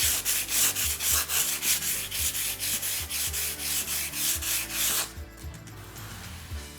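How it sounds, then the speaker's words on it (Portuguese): Wood is sanded by hand in long, rhythmic strokes, about a dozen even back-and-forth rasps that stay close and clear before fading to a quieter scratchy texture at the end. "Mas sempre lixando no mesmo sentido."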